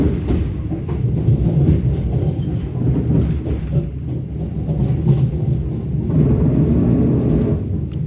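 The Majapahit passenger train rolls slowly toward Cirebon Prujakan station, its loud close rumble and rhythmic wheel clatter surging and easing over several seconds with nobody speaking.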